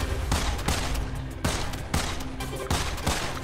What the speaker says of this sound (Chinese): 左键开枪射击